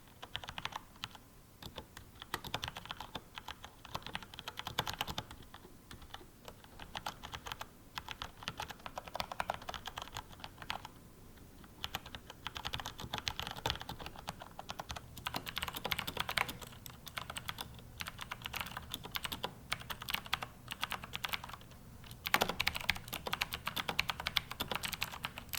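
Typing on Corsair Vengeance K70 mechanical keyboards with Cherry MX Blue and Brown switches produces continuous rapid keystrokes, crisp clicks and clacks in irregular bursts, close and fairly quiet, with no talking.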